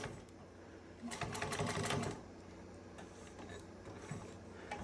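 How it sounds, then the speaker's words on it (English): Juki 1541s sewing machine fitted with a leather needle stitching a pocket onto a bag lining, a quiet rapid mechanical clatter in one brief burst followed by lighter intermittent whirring. "I'm going to sew these down."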